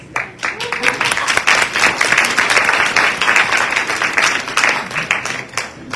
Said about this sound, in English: If it is, clap your hands.